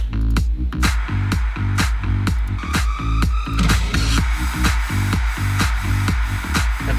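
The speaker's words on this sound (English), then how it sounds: "There were a white noise." A white noise sweep rises through a loud electronic dance mix, over steady pounding kicks, hi-hats and sustained synth chords. It is continuous and bright, and no voices are heard.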